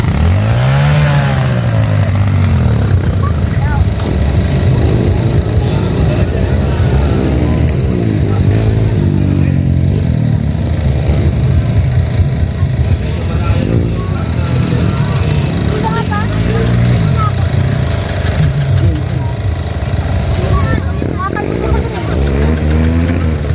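Motorcycle engines at a Kawasaki enduro race rev and buzz loudly at close range, rising and falling as riders accelerate, with continual raspy drone throughout.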